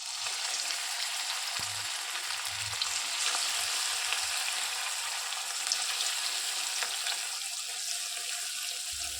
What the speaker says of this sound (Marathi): आता यांना आपण डीप फ्राय करून घेऊ.